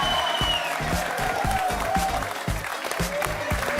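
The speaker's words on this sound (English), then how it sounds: "Keep the applause going." A studio audience of a late-night football talk show applauds, a steady wash of clapping with a few louder claps and faint voices underneath.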